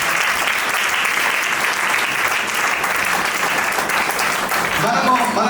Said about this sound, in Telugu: ఒకసారి అందరూ చప్పట్లు కొడదాం.